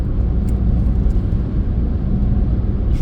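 Steady, loud low rumble of a car cruising at motorway speed along a straight road near Pouilly, by Metz, during a driving test, with road and engine noise constant throughout and no talk.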